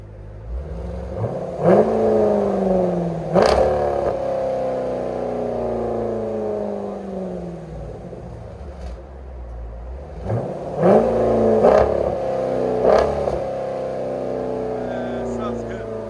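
A 2020 Jeep Grand Cherokee SRT with a 6.4L HEMI V8 and Borla Atak cat-back exhaust revs in a few sharp bursts that fall back to a deep idle, with a pause between the pairs of revs. Voices talk over it.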